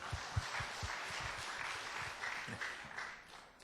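An audience at a New Year rally claps together in a fairly quiet, brief round, with a few sharper claps near the start over a steady patter.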